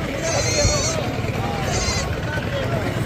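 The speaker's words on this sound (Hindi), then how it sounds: "ये छोटे साइज़ की बच्चों वाली बकरियां अभी पड़ी हुई है" Goats bleating at a crowded Eid livestock market in Dera Ghazi Khan, two distinct wavering bleats rising over steady low crowd murmur and people talking nearby.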